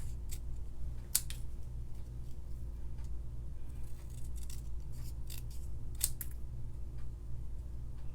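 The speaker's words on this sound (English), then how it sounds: "I'm going to trim it this way first so they're all the same." Scissors snip along paper card sentiments being trimmed to equal height, a soft, steady run of close cuts with brief crisp bursts against a low background hum and no speech.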